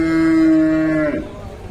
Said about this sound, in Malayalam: ഈ ഒരു പശു.